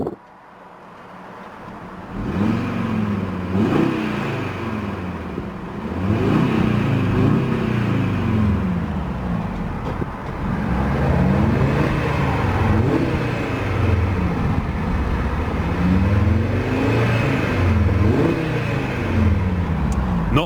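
A 2019 Audi RSQ3 Sportback engine in RS mode revs repeatedly, roughly four loud rising-and-falling surges with a throaty exhaust note up to a limiter around 4,000 RPM, close and alone without talk.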